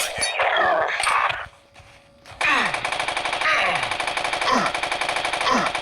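Rapid machine-gun fire in the video game Slaughter rattles in a dense, loud sustained burst after a short lull, with shouting voices and groans mixed over the shooting.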